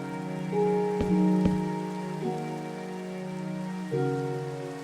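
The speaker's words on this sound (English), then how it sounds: "there's something about rainy weather in Minecraft" In the video game Minecraft, steady rain patters evenly through the weather, holding a soft, constant hiss as a sustained tone and a couple of sharp taps sound over it.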